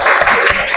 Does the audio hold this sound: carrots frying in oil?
no